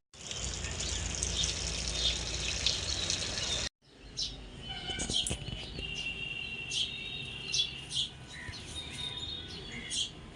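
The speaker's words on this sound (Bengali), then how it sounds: "এখন জলে পরিষ্কার করে ধুয়ে নিয়ে" Cut snakehead fish being washed in water, a steady running-water rush that stops abruptly, then gives way to lighter splashing and handling noises with faint bird chirps in the background.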